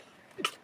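A single short, sharp sneeze bursts out once in the middle of a quiet car cabin during a long drive home, with low road rumble before and after.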